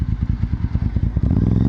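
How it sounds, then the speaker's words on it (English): MotoGP racing motorcycles, including an LCR Honda, roar past in a loud, close, pulsing engine blare with rapid revving beats, building to a sustained high-rpm wail. "was doing very well on the LCR Honda, and was in quite a battle fighting with Jack Miller"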